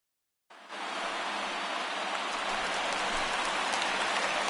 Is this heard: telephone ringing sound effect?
no